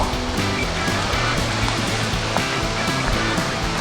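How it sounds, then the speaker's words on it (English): Tomato, onion and garlic pasta sauce simmering in a pot, giving a steady, dense bubbling hiss with soft rapid pops, close and continuous without any talk. "so now our pasta sauce is nice and simmering"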